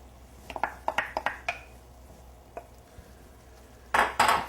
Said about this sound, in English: Tomato paste can be a little tricky to stir into the dish